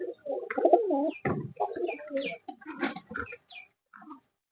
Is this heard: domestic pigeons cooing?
yes